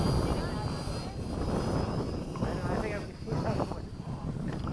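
Mini B-17 radio-controlled model airplane flying at a field, its small engines giving a buzzing, droning whine that rises and fades while people talk nearby.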